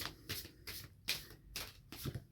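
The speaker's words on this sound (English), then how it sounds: "So let's shuffle some more cards." Tarot cards being shuffled by hand, a series of soft riffling bursts repeating at a steady pace, close and fairly quiet, with no talking.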